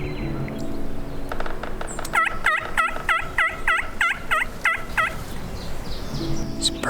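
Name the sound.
wild turkey gobbling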